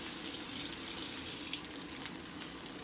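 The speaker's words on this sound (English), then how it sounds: "So let me rinse this off." Tap water runs steadily into a kitchen sink while cooking shrimp fried rice, a constant close splashing hiss with no voices.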